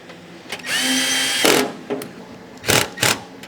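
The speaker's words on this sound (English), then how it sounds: "Drill it tight." A power drill tightening screws whirs in several bursts, one longer run followed by short spurts, close up with clicks and handling noise between.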